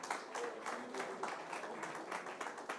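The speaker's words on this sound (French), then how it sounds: "Bravo, on peut l'applaudir." An audience claps for an award recipient receiving the Finance Innovation label at an asset-management event, giving fairly faint, continuous applause with distinct claps.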